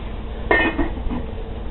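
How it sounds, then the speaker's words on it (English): A lid set onto a pot of boiling vegetables gives a single short metallic clink, close and fairly loud, over a steady hiss of boiling water. "Now that it's boiling, we want to go ahead and cover it"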